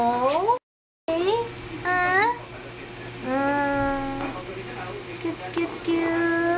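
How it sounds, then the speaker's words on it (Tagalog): A pet cat meows several times up close, each call a rising, drawn-out cry, with people's voices around it. "Ito po yung pusa namin."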